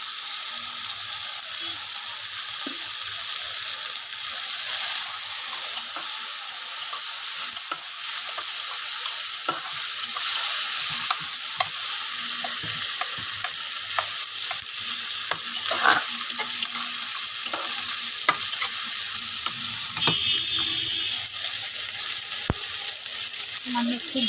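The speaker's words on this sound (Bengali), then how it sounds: "প্রথমে একটু পেঁয়াজ ভেজে নেব। পেঁয়াজের সাথে টমেটোটাও দিয়ে দেবো," Onion and tomato with slit green chilli frying in a pan: a loud, continuous close-up sizzle runs throughout, with frequent spatula scrapes and stirring clicks over it.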